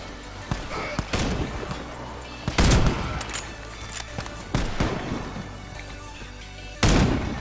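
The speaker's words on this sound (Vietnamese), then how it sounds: "Đó, có tiếng súng rồi đó." Gunfire rings out in the online shooter Warface: loud, sharp shots and bursts come in irregular clusters, with heavier cracks near the start and end, and no talk.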